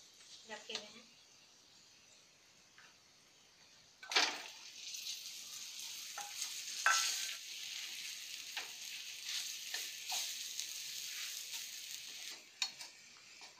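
Potatoes hit hot oil and spices in a pan for a pea and semolina kachori filling, and the sizzle jumps up loudly, then keeps frying steadily under intermittent scraping stirs of a spoon.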